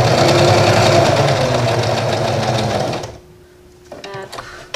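Loud, fast rhythmic chatter of a sewing machine stitching a face mask, running steadily for three seconds before stopping abruptly, followed by quieter handling noises.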